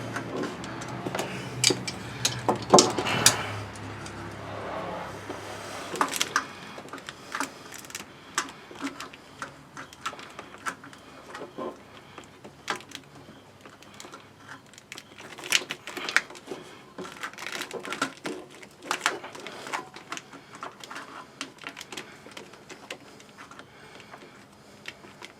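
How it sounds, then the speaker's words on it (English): Someone works a tool on a hose clamp buried deep in a 2009 Buick Lacrosse engine bay: irregular small ticks, clicks and scrapes, close but fairly quiet, with pauses between bursts. "now I gotta try to get this dang hose clamp to come loose"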